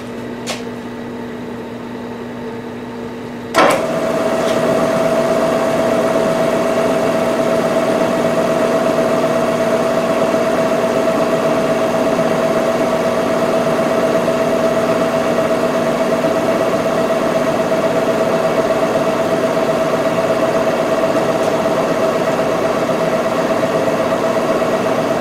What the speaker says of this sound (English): I'm going to ream the hole with a 1/1 reamer.